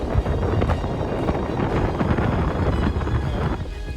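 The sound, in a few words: strong wind during a snowstorm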